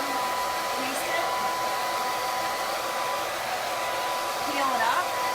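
A hair dryer blows steadily and loudly at close range, drying chalk paste on a transfer for a kitchen chalkboard sign, with no talking over it.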